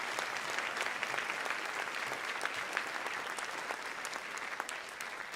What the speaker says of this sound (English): Let's give one more round of applause to our keynote speaker,